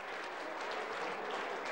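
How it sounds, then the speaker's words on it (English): Applause for a boxer at a boxing show at a gym rises as a dense, distant wash of clapping from a crowd, continuous and fairly faint across a couple of seconds. "Applause for Steve Tuckett"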